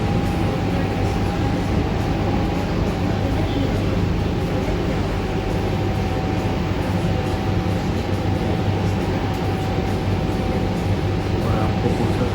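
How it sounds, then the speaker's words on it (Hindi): A train runs through a railway metro station in Bursa, Turkey, a loud steady rumble with a constant high whine throughout and no clear talking. "तो ये पूरा अमृतसर का रेलवे मेट्रो स्टेशन है।"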